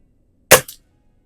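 A Cometa Fenix 400 compact air rifle fires a single sharp crack, followed a moment later by a fainter metallic tap of the pellet hitting a spinner target, then silence.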